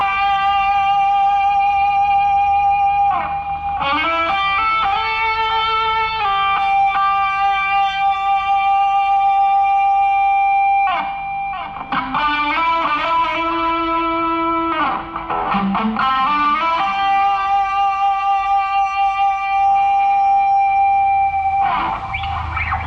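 Electric guitar played through a Boss SD-1 Super Overdrive pedal, distorted, overdriven tone, sustained chords and riffs ringing loud and continuous with a thick, gritty edge.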